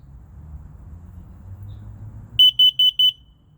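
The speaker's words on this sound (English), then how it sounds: "that's all for the smoke alarm test" A Kidde smoke alarm under test gives four loud, shrill, evenly spaced beeps in quick succession near the end, after a stretch of faint low room hum.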